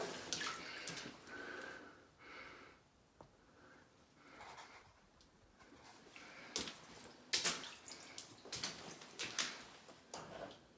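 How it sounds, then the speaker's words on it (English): Water trickles and splashes steadily down a hole into a flooding cellar in Arctic winter, faint and close, with occasional sharper drips and knocks. "You see the water pouring down the hole?"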